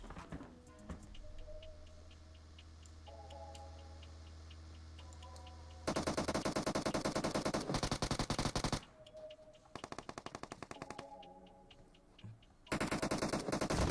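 Rapid automatic gunfire in a competitive video game match, long loud bursts of rattling shots separated by quieter ticking and game sounds, no voices.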